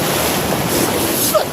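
Strong ocean waves surge at Malabrigo in Lobo, Batangas, a steady, loud roar of surf with wind buffeting the microphone throughout the short stretch.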